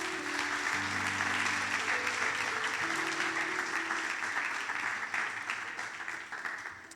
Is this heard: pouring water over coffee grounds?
no